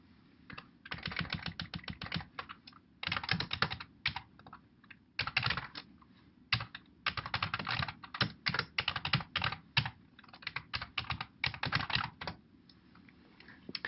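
Quiet keystrokes on a computer keyboard as commands are entered in a bash shell, arriving in quick bursts of clicking with short pauses between runs, close and fairly soft, with no talking.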